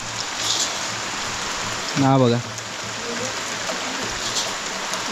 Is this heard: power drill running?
no